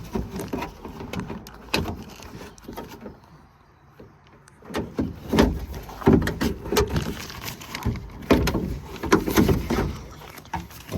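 Plastic and metal clatter and scrape inside a Toyota RAV4 door as a lock actuator is worked out from behind the window track, with irregular bursts of rattling and knocks separated by brief quieter pauses.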